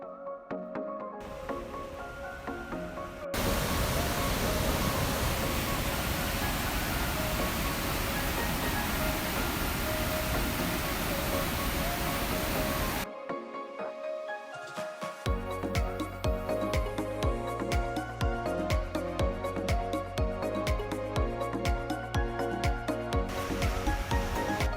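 Bracebridge Falls waterfall sends up a steady, broadband roar that lasts about ten seconds. Quieter passages come before and after it, with music underneath and no talking.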